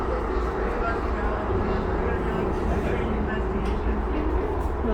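Siemens-built Chicago CTA Blue Line train running underground, a steady loud low rumble and roar of wheels and motors in the tunnel, continuous throughout with faint voices in the car.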